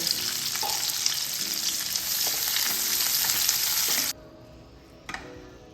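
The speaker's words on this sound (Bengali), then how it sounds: "আর 50 গ্রাম মতো কাজু বাদাম, এটা হালকা করে ভেজে নেব" Cashew nuts lightly frying in a pan, a steady close sizzle and crackle of hot oil with faint stirring scrapes, cutting off sharply near the end before one brief clink.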